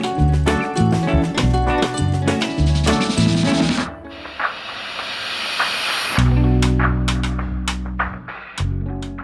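Dal tipped into a pan of browned onion and garlic, setting off a loud rushing hiss of sizzling for a couple of seconds under steady background music.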